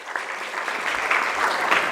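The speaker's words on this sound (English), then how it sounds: "Let's give her a huge round of applause," Huge round of applause from the gathered audience at a women entrepreneurs' awards ceremony, steady dense clapping filling the room without pause, no voices on top.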